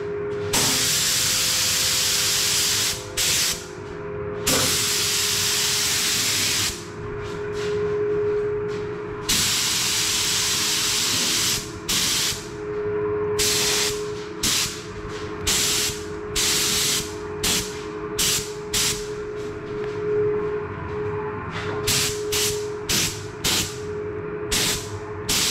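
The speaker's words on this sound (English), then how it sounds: "turn the frame over. And just give the underside quite a heavy lashing." An aerosol sprays candy red paint heavily onto the underside of a frame. It gives a loud steady hiss in long continuous bursts, then shorter stop-start blasts toward the end, with nothing else heard.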